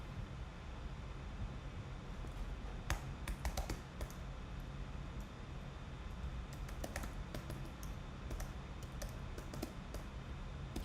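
Computer keyboard keys click in quick irregular bursts, with clusters of rapid taps separated by short pauses, close and fairly quiet over a low background hiss.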